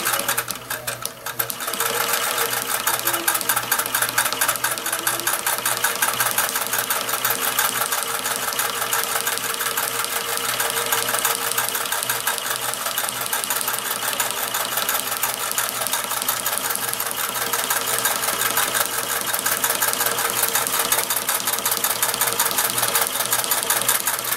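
Sewing machine stitching a fabric stuff sack with a drawstring cord alongside, running steadily and fairly close for the whole stretch in a continuous mechanical whir.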